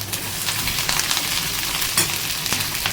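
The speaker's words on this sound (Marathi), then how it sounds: "त्यानंतर खूप साऱ्या प्रमाणात आपण या ठिकाणी कांदा टाकलेला आहे." A generous amount of onion fries on full flame in the tempering for dal fry. The sizzle is loud and continuous at close range, with occasional crackles and faint stirring sounds, and no voices.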